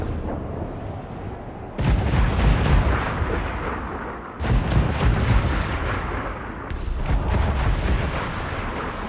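Heavy ship cannons boom in a naval battle in Assassin's Creed IV Black Flag, three loud broadside volleys crashing in one after another, each rumbling out over continuous sea-battle noise.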